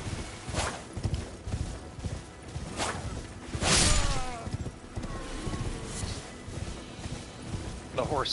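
Hooves of a horse galloping in the open-world game Elden Ring, a steady clip-clop rhythm with occasional swishing whooshes and impacts from mounted combat, while someone talks over the action.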